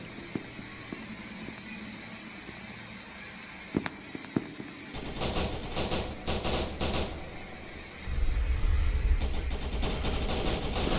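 Gunfire in the video game SCP: Secret Laboratory: a quiet stretch with a few faint pops, then rapid, loud bursts of automatic fire that stop briefly and return even heavier toward the end, with no voices.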